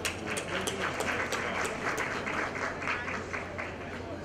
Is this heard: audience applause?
yes